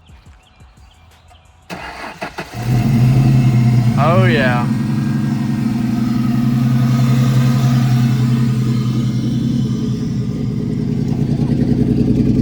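A cheap Ford Mustang V6 drift car with headers and full dual Flowmaster exhaust cranks over and fires up, then settles into a loud, rumbling idle with a brief rev; someone speaks briefly near the start.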